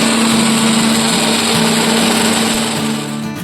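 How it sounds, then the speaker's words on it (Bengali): A kitchen grinder whirs loudly and steadily up close as it powders sugar with cardamom seeds, its motor holding a continuous high whine before easing slightly at the end. "এবার এগুলোকে গুঁড়ো করে নিই চলো।"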